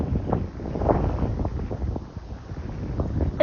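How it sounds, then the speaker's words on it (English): Strong wind buffeting the microphone in rough, continuous gusts, loud and rumbling with no clear talk. "it's really windy and I have a hard time hearing what I'm saying"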